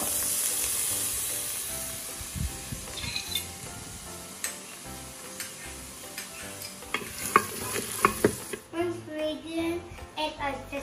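Garlic stir-fries in a wok for broccoli with mushroom in oyster sauce, a continuous sizzle with repeated spatula scrapes and clanks that grow sharper and more frequent toward the end.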